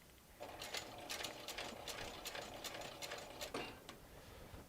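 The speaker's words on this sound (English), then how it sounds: "I am going to go ahead and back stitch" A sewing machine back stitches on a sling bag, running in a close, steady mechanical patter of rapid needle strokes with a brief pause before it resumes, heard alone and fairly quiet.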